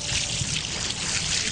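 Water is poured over a person during a waterboarding demonstration, a steady close splashing trickle that runs continuously and alone, with no talking.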